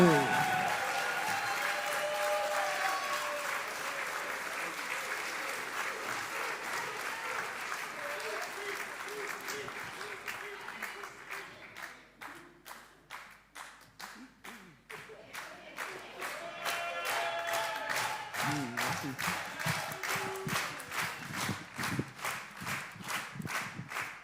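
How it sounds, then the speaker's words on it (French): A crowd at a French team slam poetry competition applauds, a dense wash of clapping that thins and fades midway, then swells again into rhythmic, slightly uneven clapping to the end. "sous vos applaudissements, mesdames et messieurs"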